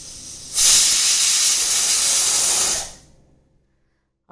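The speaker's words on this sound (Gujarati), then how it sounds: "હવે આપણે તેની 5 થી 6 વિસલ વગાડશું." A pressure cooker cooking rice with milk for kheer lets out one long, loud, close burst of hissing steam that stops abruptly, followed by near silence and a brief clatter at the end.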